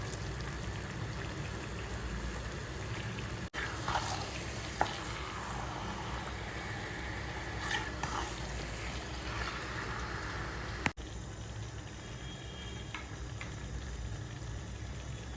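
Mutton stir-fried in a spice masala gravy, a dense continuous sizzle and frying hiss close by with a couple of sharp utensil knocks, no voices.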